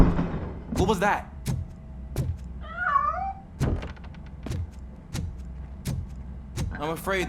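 Cat meowing in the Robocop video game, a single wavering meow standing out amid repeated dull thuds, with other cat-like cries at the start and end.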